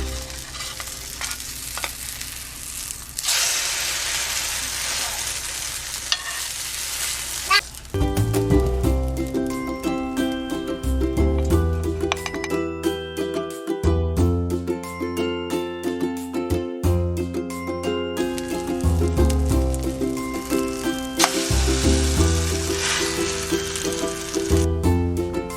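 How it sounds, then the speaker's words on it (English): A butternut squash omelet sizzles and fries in hot oil in a pan, a steady crackling hiss at close range that briefly quiets as it is flipped, then resumes strongly and continues without talk. "Flip and fry the other side."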